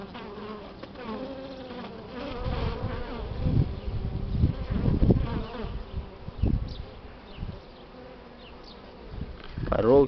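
Honeybees buzz steadily close by at a hive as they return with pollen, a thick droning hum with a few louder fly-past swells and some low thumps, no talking.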